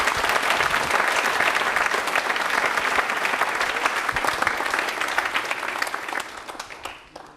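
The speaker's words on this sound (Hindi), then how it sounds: "तो तालियां हो जाए कपिल जी के लिए" An audience at a quiz programme marking Dr Bhimrao Ambedkar's birth anniversary applauds a contestant for a correct answer. The clapping is loud, dense and sustained, then thins and fades over the last second.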